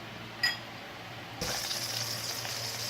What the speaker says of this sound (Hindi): अब ये सारी चीज़ें हम इसके अंदर बटर में मेल्टेड बटर में शामिल करते हैं।